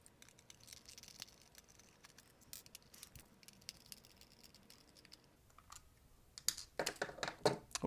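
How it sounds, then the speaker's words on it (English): Screws being removed from a toy: quiet close-up ticks and small clicks of a screwdriver and plastic, sparse at first, then a brief flurry of louder rattling clicks near the end. "there's 4 more screws here, so let's go ahead and take those out as well"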